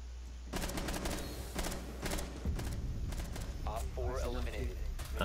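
Rainbow Six Siege gunfire in a Club House team deathmatch: several sharp bursts of shots spaced through the moment, fairly close, with voices talking over and after them.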